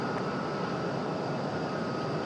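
A Southwest airliner takes off from runway 23 left at Raleigh-Durham, giving a steady, unbroken broadband roar that holds at an even level throughout, with no voices.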